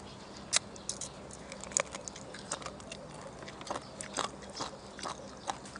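Close, quiet crunching as pickled root shellfish in soy sauce is chewed, with irregular crisp bites and small cracks spread over a low background.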